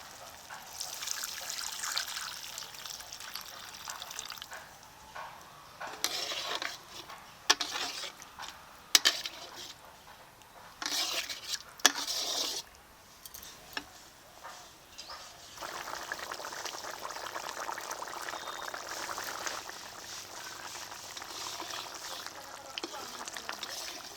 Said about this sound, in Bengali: এখন অল্প করে জল দিয়ে দেবো